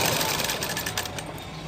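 Sewing machine stitching a neck binding onto a garment, a steady close mechanical whir with a rapid needle rhythm, running continuously and alone.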